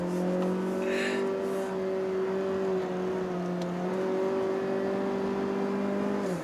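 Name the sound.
1.5 litre Mazda 3 hatch engine revving on mountain road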